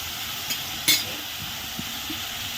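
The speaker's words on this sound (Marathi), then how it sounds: "आता आपण कांदा भाजून घेणार आहे." Onion fries in oil in a pan for a Marathi shev bhaji, a soft steady sizzle with a couple of brief utensil scrapes and taps close by, no talking.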